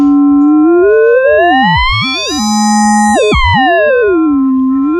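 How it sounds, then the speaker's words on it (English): Smooth, pure sine-wave synthesizer tones glide up and down in pitch, sweeping and bending against a steady high drone, loud and clean with no talking. "turn them just back into pure sine waves"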